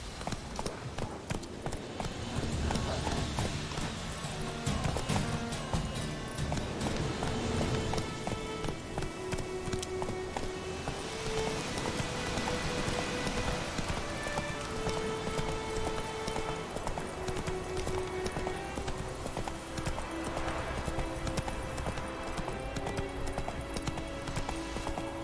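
Roach, a horse in The Witcher 3 video game, gallops steadily with rapid, continuous hoofbeats throughout, set against music and ambient game sound.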